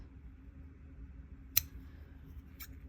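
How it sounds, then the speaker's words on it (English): Scissors cut through felt when trimming the lines for a tassel, giving one sharp close snip and a fainter second one over a steady low background hum. "So make sure you grab some scissors and cut into the lines."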